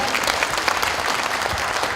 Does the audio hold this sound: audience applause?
yes